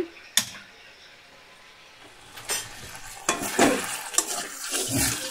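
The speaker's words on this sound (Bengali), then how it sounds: "দেখো ভালো করে কষিয়ে নিচ্ছি" New potatoes stir-fried in spiced oil, a soft sizzle with a few sharp utensil clinks against the pan, then busier scraping and stirring toward the end, close by.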